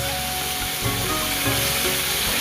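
Rohu fish pieces frying in a pan, giving a steady, dense sizzle that runs without a break at close range, with small crackling bursts and no voices.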